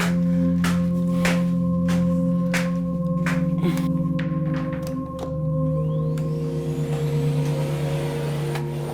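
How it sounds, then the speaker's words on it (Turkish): A machine hums with a steady tonal drone while sharp clicks and knocks punctuate it; the motor pitch shifts slightly partway through. "Bence Bengü süpürge kullanmış herhalde."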